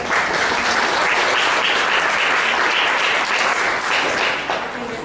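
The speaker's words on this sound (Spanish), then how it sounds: "otro aplauso para él" Sustained applause from a lecture audience, dense and steady clapping throughout with no pause, fading slightly at the very end.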